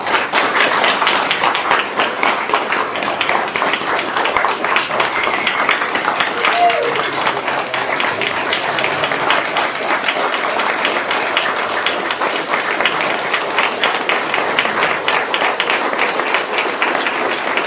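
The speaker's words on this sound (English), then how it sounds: "Let's give them a round of applause." Sustained applause from a seated audience at a state bar council meeting, honoring departing bar members; dense steady clapping fills the whole stretch with no pauses, moderately near.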